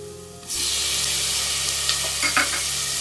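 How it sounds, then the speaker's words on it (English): A sudden loud sizzle as tomato hits hot oil, then steady crackling and hissing frying that continues close by, with faint stirring clinks. "Now I am adding the tomato."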